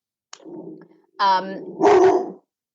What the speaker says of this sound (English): my dog is deciding to get really excited about something she saw at the window